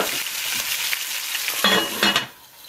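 Venison frying in a cast iron pan, a constant close hiss and sizzle with scraping bursts from stirring near the end before the noise drops away.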